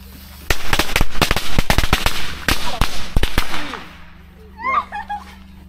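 Firecrackers and fireworks going off outdoors in a rapid, irregular string of sharp loud cracks and pops for several seconds, then quieting as a voice speaks briefly.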